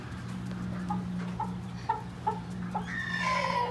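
Chickens clucking in a backyard pen, a series of short separate clucks over a steady low hum, ending in a brighter, busier stretch of fowl calls.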